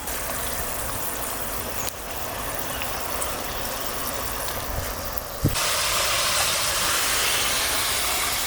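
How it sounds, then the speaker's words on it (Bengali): Fish curry gravy simmers in a pan on the stove with fresh green chillies going in, a steady broadband bubbling hiss that holds evenly throughout and grows slightly louder near the end after a brief clatter. "ঝোলটা ফুটে উঠেছে"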